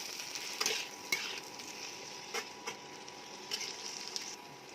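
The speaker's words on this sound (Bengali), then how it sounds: "আমি সবটা ভালো করে নাড়াচাড়া করে নিচ্ছি।" Garlic and ginger frying in a pan give a soft, steady sizzle, while a spatula scrapes and knocks against the metal every second or so, quiet and close with no voices.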